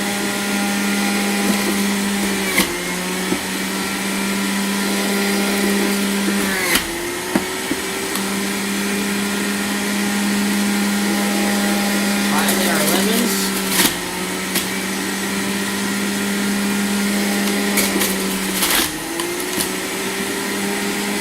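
A juicer on its highest setting grinds greens and ginger with a loud, steady motor whine that dips briefly in pitch every few seconds as produce is pushed in, with a person talking over it.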